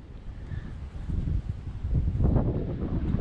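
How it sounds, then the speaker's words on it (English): Strong wind blows outdoors around a 1970 Dodge Charger being painted, roaring into the microphone as a steady rumble that swells and gusts louder toward the end. "it's not getting any less windy"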